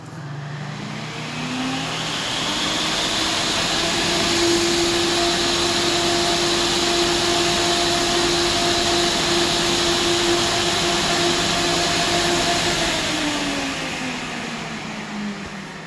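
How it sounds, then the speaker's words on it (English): A Can-Fan Max-Fan 12-inch commercial axial fan spins up, runs with a loud, steady whooshing roar and a sustained hum, then winds down near the end, heard alone without talk. "the 12 inch, you can hear the amount of extra power that it has just to try to move"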